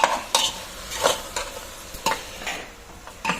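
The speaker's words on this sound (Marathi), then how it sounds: "मस्त त्यांनी सगळ्या भाज्या मस्त स्टर करून घेतल्या आहे" Vegetables and soybeans are stirred into masala in a hot pan on a gas stove, with a spoon scraping in repeated strokes over a light, steady sizzle.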